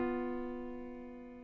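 A quiet sustained tritone, two notes held together, sounding tense and unresolved, slowly fading over its length.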